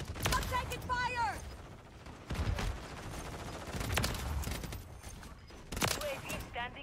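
Video game gunfire rings out in several sharp bursts of shots spread over the stretch, with a voice talking over it and tonal game sounds chirping between the volleys.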